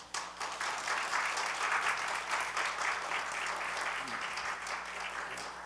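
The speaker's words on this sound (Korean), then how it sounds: "이 시간에 우리 선교사님 나오시면 우리 할렐루야 박수로" A church congregation applauds to welcome a missionary during a Sunday afternoon service, with steady, moderately distant clapping that fades slightly toward the end.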